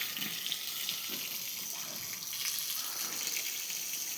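Water running steadily from a tap or hose while pigs are bathed on a hot day, a constant close splashing hiss with no pauses and no talk.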